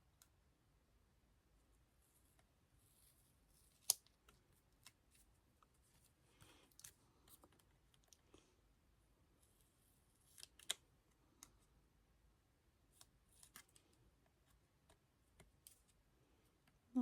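Scissors trim excess scrapbooking paper on a Halloween-themed page, quiet scattered snips and small clicks spaced irregularly across a nearly silent background, close by with no talking.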